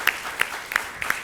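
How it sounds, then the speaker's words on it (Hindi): A small audience at a spiritual satsang gathering claps lightly, with sparse, distinct hand claps scattered over about a second rather than a full roar. "और एक बार पूनम जी के लिए तालियां।"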